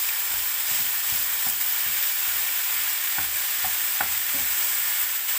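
Meat sizzles loudly in a hot pan while being stirred, a constant frying hiss with soft scraping knocks of the utensil throughout and no voices.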